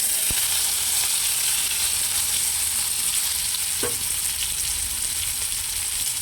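Turmeric, chili, cumin and asafoetida crackle in hot oil for a sev tameta shaak, a steady close sizzle with a utensil clink near the start and another midway; no one talks.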